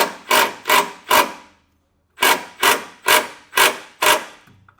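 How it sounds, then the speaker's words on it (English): A self-tapping screw is driven into a pre-drilled hole in the frame of a 2021 Chevrolet Silverado truck, heard as a series of close, gritty whirring bursts with one longer pause in the middle. "I'll take the included self-tapping screw and get this secured"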